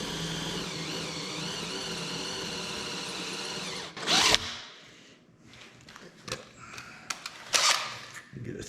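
A power drill with a 3/8 bit bores out a rivet on a Homecrest chair, whining steadily for about four seconds before stopping, followed by clattering, clicks and handling noises.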